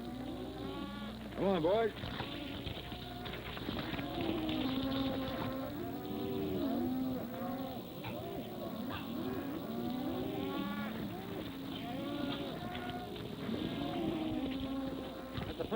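A herd of cattle moos repeatedly from near and far in an old 1941 Western, with someone briefly speaking over the lowing.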